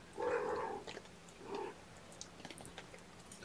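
A kitten meows twice, close and clear, followed by faint soft rustling and small clicking movements.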